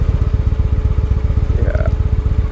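A motorcycle engine idles loudly and close by with a steady low pulsing throb that runs the whole time, and a brief voice-like tone cuts in near the end.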